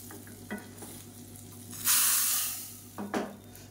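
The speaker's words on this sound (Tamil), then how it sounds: "இப்போ வந்து கடுகு, உளுந்து, சீரகம், வரமிளகாய், பெருங்காயம், கருவேப்பிலை போட்டு தாளிச்சதை இதோட சேர்த்துக்கலாம்." A tempering of mustard seeds, urad dal, cumin and dried red chilli poured into a pot of kollu (horse gram): a sudden loud sizzling hiss that fades over about a second, with a few stirring clinks before and after.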